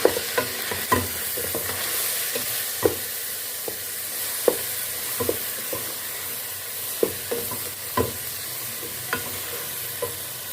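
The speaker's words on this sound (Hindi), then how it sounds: "दो से 3 मिनट कीमे और मसाले को हमने अच्छे से भून लेना है" Chicken keema with salt and Kashmiri red chili fries in a pan, a steady sizzle punctuated by frequent sharp scrapes and knocks of a spoon stirring the mince.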